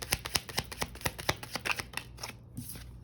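Tarot cards are shuffled to pull a spread, a quick run of crisp riffling flicks in steady rhythm that thins out toward the end, close and alone.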